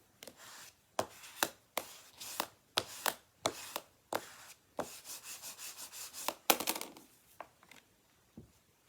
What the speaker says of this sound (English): I'll give that a burnish.